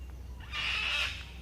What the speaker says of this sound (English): That's the cockatoos. Very noisy bird.